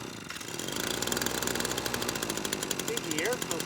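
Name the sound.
ECHO PB-260L leaf blower engine trying to start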